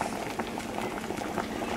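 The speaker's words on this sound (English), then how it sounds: "You can see our water is boiling" Water at a rolling boil in a pot on the stove, a close, dense and steady bubbling hiss with no pauses.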